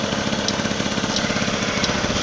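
Small engine idling close by, a steady loud rapid putter with an even mechanical rhythm and no talk over it.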